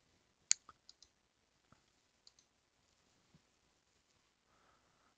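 Sharp mouse clicks on a computer, several quick taps in the first second and a few sparse ones after, close and quiet with no talking.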